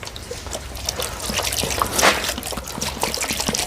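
Vinegar pours out of a container and splashes onto the ground in an uneven, trickling stream that swells in the middle, close by with no one speaking.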